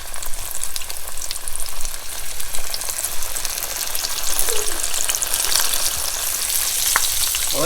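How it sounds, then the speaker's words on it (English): Ice-caught fish dropped into hot grease, giving a steady, loud sizzle and crackle of frying that carries on throughout with a few small pops and no talking. "we're gonna throw these right in the grease."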